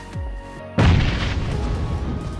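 A grenade detonates in a first-person shooter video game: one sharp, loud boom that bursts in suddenly after a quiet lead-in, then decays into a rumbling tail.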